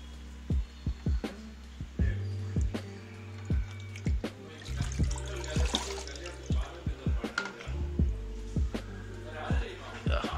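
An aluminium Yamaha RX crankcase comes up out of a soaking liquid, shedding a steady patter of drips and splashes over a low background hum, with no one speaking.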